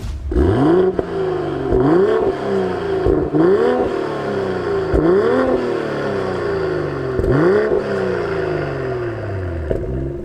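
A tuned BMW M240i xDrive producing about 450 bhp drives on the road, its engine rising repeatedly through revs with sharp upward sweeps and brief drops at each gear change, loud and close inside the car without speech.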